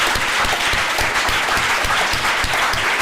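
An audience at a book launch panel on women and politics in the Middle East claps steadily, a dense, even wash of applause lasting a few seconds with no talk over it.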